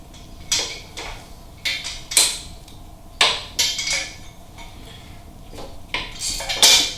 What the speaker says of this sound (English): Now it's time to take off the nuts from the cylinder head.